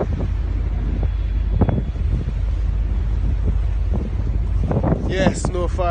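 Steady wind buffeting the microphone outdoors on a ferry crossing from Picton to Wellington, New Zealand, a low rumbling roar running throughout with brief gusts, and faint voices near the end.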